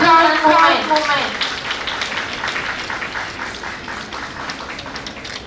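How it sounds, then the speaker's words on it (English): Clapping from a conference audience at the Indo-Japan Bilateral Conference celebration breaks out under a voice on the sound system, then carries on as a fading patter of hands. "a very huge round of applause for this memorable and proud moment"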